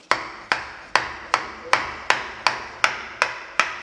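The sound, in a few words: pounding a fallen fruit with a mortar pestle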